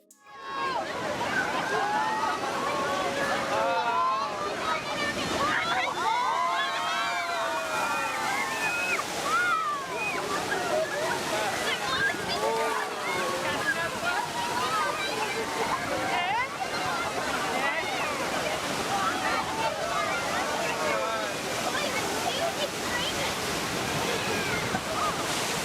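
Powerful ocean waves surging over swimmers on an Australian coast during a cyclone in February 2016, a continuous roaring wash of surf and sloshing water with excited voices and shouts mixed in throughout.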